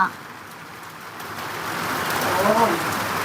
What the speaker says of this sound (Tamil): மழை புடிச்சுக்கிச்சுப்பா மழை வருதுதான்